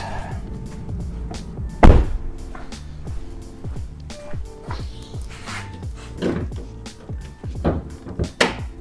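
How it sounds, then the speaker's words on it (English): Hood of an Audi S4/S5 being opened: a sharp thunk of the latch followed by clicks, creaks and scattered clunks of the hood lifting, close by. "So the first thing we want to do is probably open the hood first, right? So let's open that."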